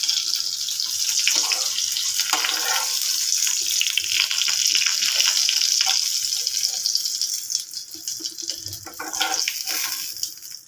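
Prawn cutlets fry in hot oil with a bright, steady sizzle that holds close and loud before easing off toward the end.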